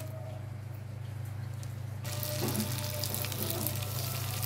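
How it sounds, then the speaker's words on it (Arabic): Vermicelli frying in butter and oil with a steady close sizzle, growing noticeably louder and brighter about halfway through as the pan heats, with no talking. "حطيت حته زبده وشويه زيت، واحط بقى الشعريه اهو"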